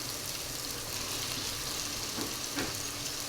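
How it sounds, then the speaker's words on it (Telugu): Chicken frying in ginger-garlic-onion paste for a chicken cauliflower curry makes a soft, even sizzle with a brief clatter of stirring near the end. "ఇందులోనే చికెన్ యాడ్ చేసుకుందాం."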